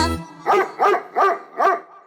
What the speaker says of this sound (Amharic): ይሄማ ውሻ ነው።